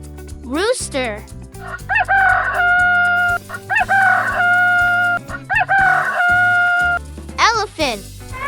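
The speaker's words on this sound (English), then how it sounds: "Rooster." A rooster crows loudly and close by in several long cock-a-doodle-doo calls, each rising and then holding steady, with a short cluck between them and no pauses of silence.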